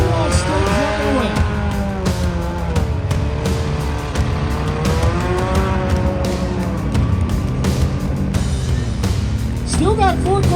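Small cars at the Edson, Alberta hillbilly demolition derby, engines revving hard with rising and falling pitch and tires squealing, loud and continuous while an announcer talks over them.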